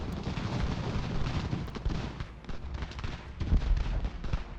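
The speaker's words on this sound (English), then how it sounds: "Ooh, nice canister shot there." Cannons fire canister shot in the strategy game Ultimate General: American Revolution. Several heavy, rumbling booms and blasts overlap in quick, irregular succession, loud and close.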